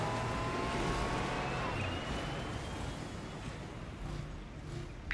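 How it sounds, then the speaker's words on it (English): A Warthog vehicle engine from the Halo Wars 2 game runs steadily, a smooth motor hum with tire noise that stays fairly constant and slightly fades over the span. "Listen to that engine purr."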